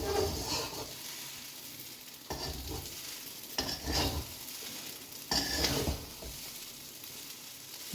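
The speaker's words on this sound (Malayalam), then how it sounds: "ഉപ്പ് എല്ലാ ഭാഗത്തേക്കും ആവണ പോലെ നന്നായിട്ടൊന്ന് ഇളക്കിയെടുക്കുക." Vegetable chowmein noodles being stirred and tossed with salt in a pan over a steady sizzle, with several bursts of scraping and clattering strokes spaced a couple of seconds apart, close and without talk.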